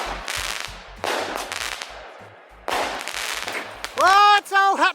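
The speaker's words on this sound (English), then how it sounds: "I was just letting fireworks off" Fireworks going off in the Australian outback: several loud crackling bursts in a row, each decaying, followed by a voice shouting near the end.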